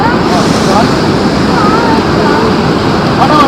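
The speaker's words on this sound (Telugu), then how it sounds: "ఫస్ట్ అయితే గంగా నది దగ్గరికి అయితే వచ్చేసాం" Ganga river water rushing at Gangotri, a steady, loud broadband roar of flowing mountain water that holds constant throughout, with faint voices mixed in.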